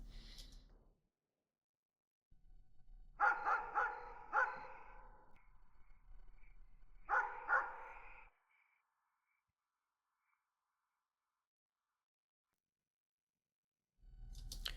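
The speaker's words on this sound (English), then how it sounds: "the barking noise can be just a tiny bit closer to us" A dog barks in two short bursts of several yaps each, fairly close, with quiet gaps and faint background noise between.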